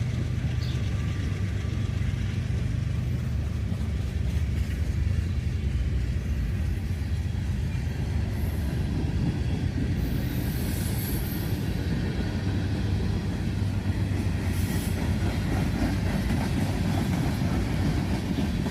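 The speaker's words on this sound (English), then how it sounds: "Two trains passing each other." Two freight trains pass each other on a CSX mainline: continuous heavy rumble of rail cars rolling past with rhythmic clatter, steady and loud throughout, with brief high metallic squeals.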